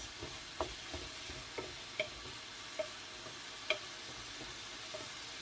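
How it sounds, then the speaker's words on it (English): Minced meat seasoned with taco spice fries in a pan, a steady soft sizzle broken by scattered ticks and clinks as it is stirred, quiet and close with no talking. "Just going to incorporate all that spice through the meat now. fry it off just to release those flavours"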